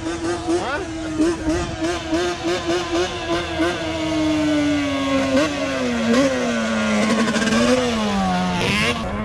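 A 2006 Yamaha Banshee ATV's two-stroke engine revs loud and close, its buzzing pitch rising and falling through repeated throttle blips over a steady idle, with voices in the background.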